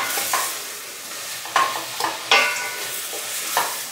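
Sliced white onions being stirred as they sweat in a pan, with a soft steady sizzle broken by several sharper scraping strokes of the spoon; close, quiet, no talking.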